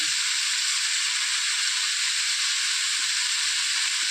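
Shallots, onions and garlic frying in a hot pan for a Kerala pumpkin masala, giving a steady, even sizzle with no talk and no sharp breaks.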